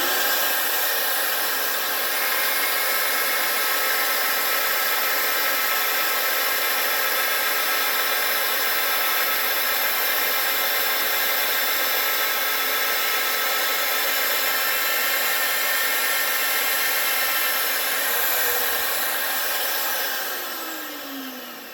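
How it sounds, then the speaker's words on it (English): A steady, loud mechanical whine of an Evolution EvoMag42 magnetic drill grinding continuously through a steel table plate, unbroken for about twenty seconds before tapering slightly at the end. "Once it starts filling up there, I'll start drilling"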